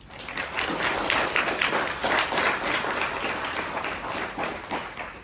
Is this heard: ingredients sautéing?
no